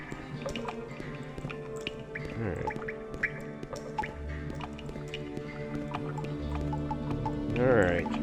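Water drips in a video-game cave, a series of distinct plinking drops at irregular intervals over a low ambient rumble, with a watery gurgle near the end; close and clear, no talking.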